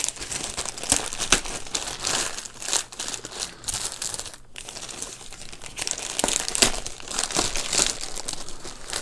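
Plastic bags crinkle and rustle close up while PS5 and Xbox controller accessories are unpacked, a loud, continuous scrunching with brief pauses and crackly bursts over about nine seconds.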